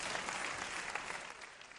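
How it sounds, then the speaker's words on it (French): A comedy-show audience applauds, dense and even clapping at a fairly low level, lasting a couple of seconds without talk over it. "applaudissez pour vous"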